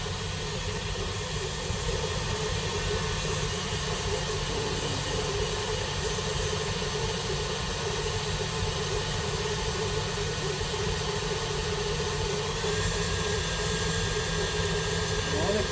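An electric mixer whirs continuously through cake batter, a steady dense motor hum and hiss running unbroken at even loudness throughout.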